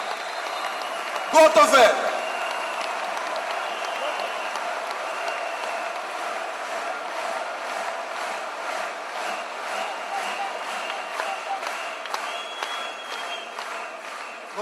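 A crowd at a political rally claps and cheers steadily, with a rhythmic, sustained applause that carries on under a speaker's brief voice near the start.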